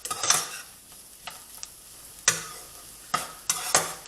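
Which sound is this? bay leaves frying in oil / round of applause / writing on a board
bay leaves frying in oil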